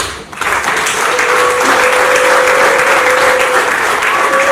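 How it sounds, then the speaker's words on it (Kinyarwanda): Sustained applause from a wedding crowd welcoming the couple's families, loud and dense, swelling quickly after a brief start and carrying on steadily without talk. "reka mbashimire cyane amashyi tubakire"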